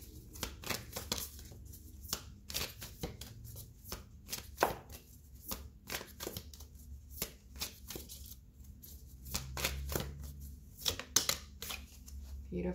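Tarot cards being shuffled by hand in a run of crisp, rapid riffling bursts with brief pauses between, close and fairly quiet, with no talking over them.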